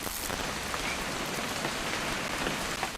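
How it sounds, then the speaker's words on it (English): Steady heavy rain in the video game What Remains of Edith Finch patters densely on surfaces, a constant loud hiss with no talk. "It's gonna rain the whole weekend, isn't it?"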